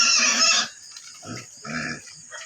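A loud pig squeal, then a few low, rough grunts from pigs close by, with short pauses between them.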